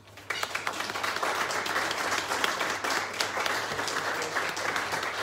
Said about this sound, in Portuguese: Uma salva de palmas para si.